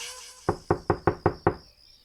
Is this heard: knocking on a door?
yes